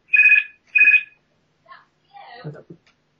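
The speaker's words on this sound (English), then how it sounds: "It's my phone." A mobile phone rings twice in quick, bright, loud bursts close by, followed by a short silence and then brief talk.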